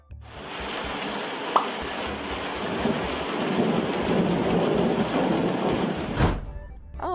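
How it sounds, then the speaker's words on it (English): Thunderstorm with heavy rain pouring steadily and a low, continuous rumble of thunder, loud and sustained for most of the stretch before cutting off abruptly near the end. "it is a lightning"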